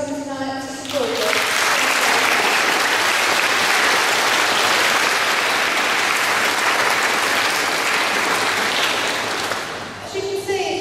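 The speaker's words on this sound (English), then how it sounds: "just give a round of applause to everybody who's come tonight to support you" An audience at a training celebration event gives a loud, sustained round of applause lasting about nine seconds, with dense clapping that swells quickly after a spoken introduction and tapers as a voice resumes at the end.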